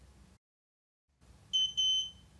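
After a short silence, an alarm system keypad panel gives two quick high-pitched beeps, close and clear, confirming an RFID key tag in programming mode.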